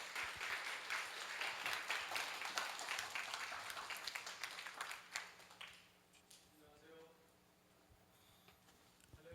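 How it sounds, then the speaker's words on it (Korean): A church congregation applauding to welcome a pastor at an afternoon service, dense clapping for about five seconds that thins out, followed by quiet room noise and faint voices. "김대중 목사님 나오실 때에 큰 박수로 환영해 주시기 바랍니다"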